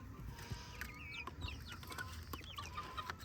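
Amrox chicks cluck and cheep softly in a group, with scattered high peeping calls over a low background murmur.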